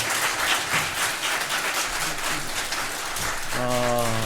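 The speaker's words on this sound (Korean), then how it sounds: "우리 연합 성가대를 위해서 다시 한번 박수로 환영할까요?" Steady applause from a large church congregation at an Easter dawn service after a combined choir, filling the room, ending as a sustained organ-like tone swells in near the end.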